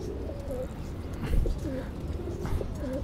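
Rampuri pigeons coo softly and repeatedly, making low rolling calls that recur every second or so. They sit close to the listener over a murmuring background, with a brief bump partway through.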